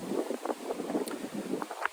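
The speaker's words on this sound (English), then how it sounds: "It's blowing 30-mile-an-hour gusts out here." Gusty wind of about 30 mph buffets the microphone in rough, uneven surges, a steady roaring rush with no voices.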